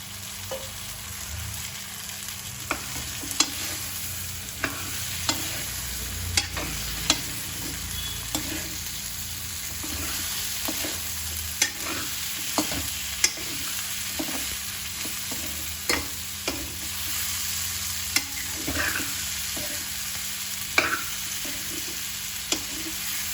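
Green beans and potatoes frying in masala sizzle steadily, with frequent sharp clacks and scrapes of a spoon stirring the pan at a quiet, close level.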